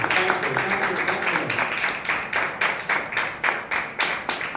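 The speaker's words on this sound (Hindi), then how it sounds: "यीशु के नाम ताली बजाइए प्रभु की।" A church congregation claps in praise during a sermon, with irregular, fairly sharp bursts of hand claps and a voice speaking over them.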